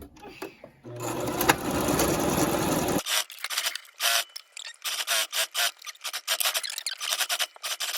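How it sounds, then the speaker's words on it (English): A sewing machine stitches along a dress neckline in a close, steady run of about two seconds, followed by a series of short start-stop bursts as the fabric is guided; faint speech briefly overlaps. "we're going to sew right along the neckline"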